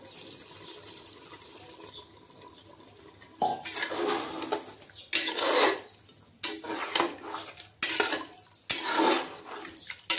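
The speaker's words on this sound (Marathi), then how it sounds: "आता ह्याच्यात अर्धा तांब्या पाणी ओतूया." Hot water, about half a small pitcherful, poured into a pot of chicken gravy, arriving in several splashy bursts with brief pauses and faint metal clinks, close and fairly loud with no talk.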